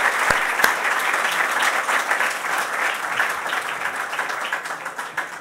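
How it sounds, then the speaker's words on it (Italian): An audience at a conference on innovation in commerce and tourism applauds a speaker, a full, steady round of clapping with a couple of sharp claps near the start, fading slightly at the end. "Ringrazierei con un applauso"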